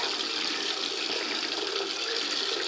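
Cold water runs steadily while bloodstained underwear is washed by hand with a block of laundry soap, making a continuous, even rush of water with no talking.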